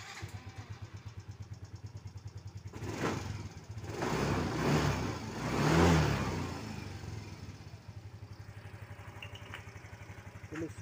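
A Yamaha Mio J automatic scooter engine is started after a quiet idle, then revved in several rising and falling swells before settling back to a low idle, close and fairly soft.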